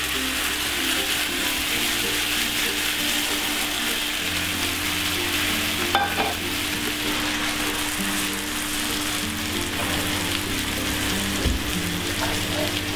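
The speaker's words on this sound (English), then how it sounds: "I've just put them on the induction now, and they're just cooking, just in a little bit of salt and a little bit of oil." Food sizzles steadily in a little salt and oil on an induction hob, a continuous fizzing hiss with a low mechanical hum and an occasional faint tick, no talking over it.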